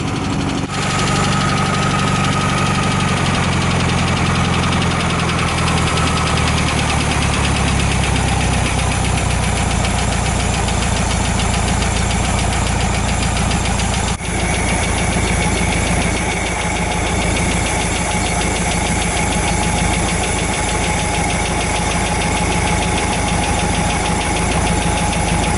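A 1981 Volkswagen Fusca 1300 engine idles steadily at close range while its carburetor mixture screw is adjusted, a continuous loud mechanical chug and rumble with a slight shift in tone midway and no talking.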